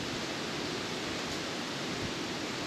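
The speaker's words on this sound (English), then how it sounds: "This wind is relentless." Relentless northwest wind outdoors during a Kentucky deer hunt, a steady broad whooshing rush with no pauses, moderately loud and unbroken.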